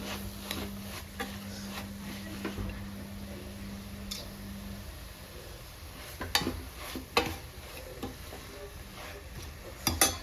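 Cooked coconut palya is stirred and mixed in a pan, with scattered soft scrapes and clicks of the spoon over a low steady background hum, fairly quiet throughout.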